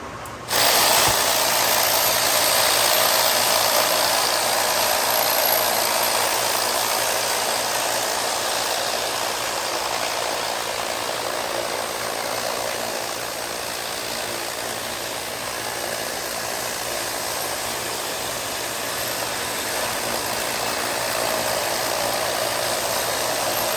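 A rock tumbler loaded with 600 grit and borax runs continuously, a loud, steady mechanical rumble and grinding drone that starts abruptly and holds for over twenty seconds with no talk.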